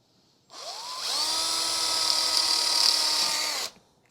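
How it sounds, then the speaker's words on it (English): Power drill boring a hole in plastic wood, the motor whining up to speed and holding a steady high-pitched drone for about three seconds before stopping, close and alone. "now I'm going to drill my holes"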